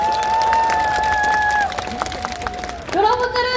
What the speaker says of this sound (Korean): 힘찬 발언해주신 시민분들께 다시 한번 큰 박수 부탁드립니다